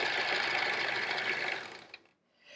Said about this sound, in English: And now it's easier to sew.